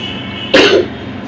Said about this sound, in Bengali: দেখ কাশি হয়েছে একটু আবার